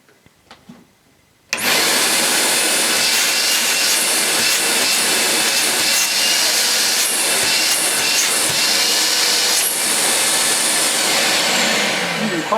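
Hoover Aqua 15 wet and dry vacuum cleaner switching on after a second of quiet, then running with a loud, steady, hissing whine that holds for the rest of the clip, close by with no talk.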